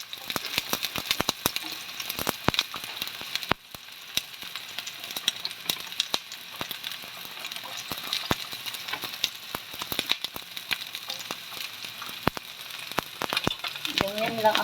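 Spring onion and big white onion sauté in hot oil for mung bean soup, giving a steady crackling sizzle with sharp pops scattered throughout, close and moderately quiet.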